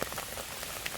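Heavy rain falls in an autumn forest, a dense, even hiss with scattered patter of close drops hitting leaves and ground, fairly loud with nothing else in the clip.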